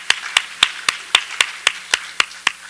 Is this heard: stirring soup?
no